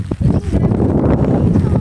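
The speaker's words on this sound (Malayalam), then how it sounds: "നല്ല കാറ്റ് വീശുന്നുണ്ട്" Strong wind blows across an open paddy field in the rain, a loud, steady low rumble buffeting the microphone throughout with little pause.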